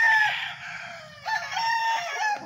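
Fighting roosters on a small farm crow loudly at feeding time, their long drawn-out calls overlapping and repeating close by with no talking.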